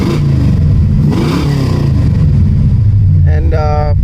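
A big Pontiac car engine revs hard after a carburetor swap, a loud, rough mid-range roar that climbs and falls, with a short clattering burst near the end.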